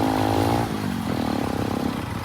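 A motorcycle engine with a silencer runs close by on a hill climb, a rough droning putter that shifts pitch briefly as it revs.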